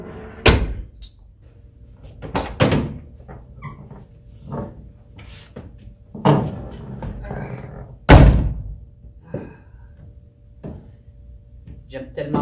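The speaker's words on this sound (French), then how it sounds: "J'aime tellement le son des vieilles portes comme ça qui se claquent." Old 1972 Toyota Celica RA21 doors thudding shut several times, heavy close slams spaced out over a dozen seconds, mixed with a voice talking and some rustling in the background.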